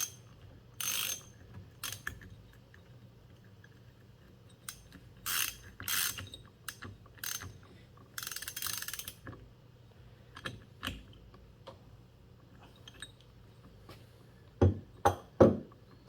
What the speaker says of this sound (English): So once you get that nut on, it's going to be a size 22. You're going to want to tighten it down.